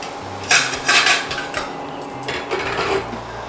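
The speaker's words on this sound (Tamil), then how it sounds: "சாஸை கலக்கிட்டு ஊற்றிக்கிறேன்." A spoon clinks and scrapes against a bowl while light and dark soy sauce are stirred with a little water, with several sharp metallic taps and rattles in an uneven rhythm, close and clear.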